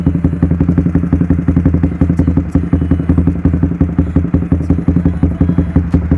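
A Honda CB150R with a modified exhaust runs close by, its engine giving a loud, steady, rapidly pulsing rumble that holds throughout with little change in pitch.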